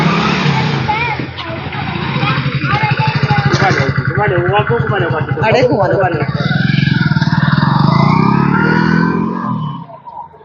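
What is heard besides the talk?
motorcycle being ridden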